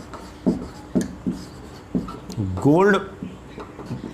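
A teacher writes on a board during a maths class, sending out short, evenly spaced taps and scrapes about every half second while a voice speaks briefly over the strokes.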